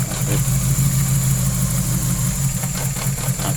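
A car engine with one cylinder not firing idles roughly up close, a loud, continuous uneven thrum with a faint knocking pulse and vibration.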